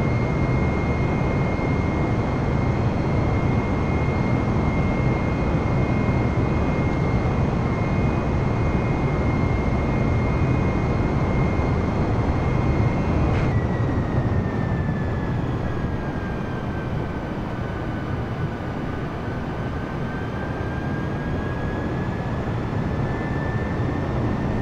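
Airbus A320neo jet in Microsoft Flight Simulator rolling down the runway and climbing away, a steady loud engine roar with a whining tone that drops in pitch partway through and then slowly rises again.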